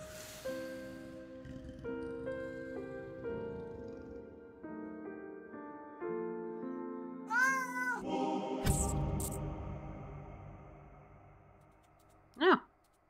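A wild cat in a video game gives a couple of short meows partway through, over a layer of game music and a sharp effect near the end.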